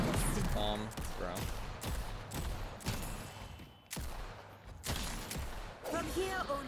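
Bombs thrown by the Geist character in a video game go off as a rapid series of sharp explosive bursts, roughly one every half second. Someone talks over them.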